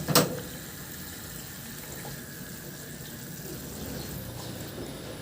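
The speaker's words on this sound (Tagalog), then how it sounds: "Ihanguin ko na lang yan at saka i-drain." Water drains from boiled water spinach (kangkong) in a kitchen as a soft, steady trickle and splash, faint and continuous after a brief clatter at the start.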